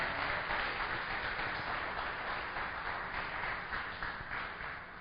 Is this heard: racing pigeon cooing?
no